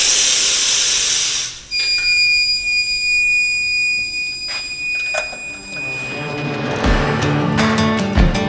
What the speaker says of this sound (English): you can hear the air's coming out